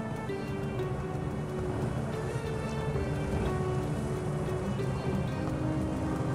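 Steady rain falls and patters on surfaces in a commercial area of Bahria Town, Karachi, a dense continuous hiss with scattered drops, fairly loud and unbroken throughout.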